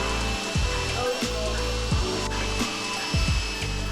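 A Gtech AirRam 3 cordless vacuum cleaner whirs loudly up close, its motor pitch dipping and recovering repeatedly as it sucks up oats and flour in short strokes.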